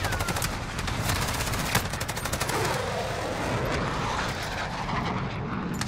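Dense, continuous automatic gunfire in Call of Duty Warzone, with rapid repeated shots and battle noise over a constant roar, loud and unbroken throughout.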